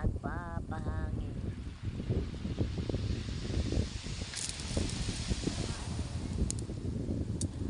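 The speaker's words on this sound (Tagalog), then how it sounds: "Lakas ng hangin dito guys sa tabing dagat." Strong wind gusts at the seaside, rumbling and buffeting the microphone in a continuous loud roar, with a couple of brief chirps near the start.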